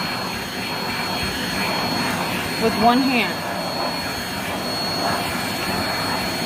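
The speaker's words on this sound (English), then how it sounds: "This is one of the things that sold me on this vacuum" A Rainbow SRX vacuum cleaner with an attachment runs steadily while cleaning baseboards indoors, a constant close whooshing roar with a brief pitch rise near the middle, as a person talks over it.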